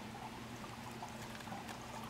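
Water pours into a plastic bag for saltwater fish at a breeding facility, a soft, continuous splashing trickle over steady background hum.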